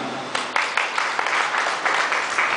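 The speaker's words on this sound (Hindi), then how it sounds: "माता जी के लिए तालियां।" Audience at an Arya Samaj annual festival claps for a woman who answered a question, a short burst of many hands with uneven, sharp peaks close by.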